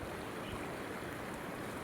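A river swollen by heavy rain and a cloudburst near a village rushes past in a dense, steady roar of flowing water, with no voices over it.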